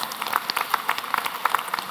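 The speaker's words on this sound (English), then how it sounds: "I think they deserve a round of applause" An audience claps in a crowded room, a light, scattered round of applause with irregular hand claps, fairly close and steady throughout.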